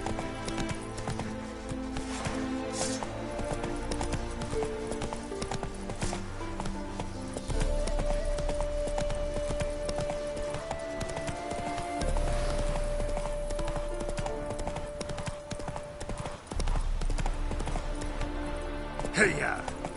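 A horse gallops in The Witcher 3: Wild Hunt, its steady clip-clop hoofbeats running continuously under game music and ambience, with a whinny partway through and a voice speaking over it.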